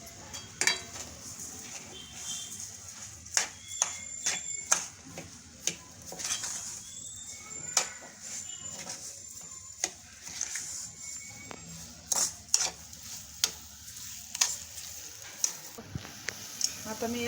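Sugar goes into mango sheera in a pan and is stirred, with repeated sharp clinks and scrapes of a metal spoon against the pan over a faint sizzle, irregular and close up.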